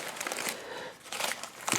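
Masking paper and tape being crinkled and pulled off a freshly painted 1987 Oldsmobile 442 firewall, close crumpling and tearing rustles in short bursts with a brief pause between.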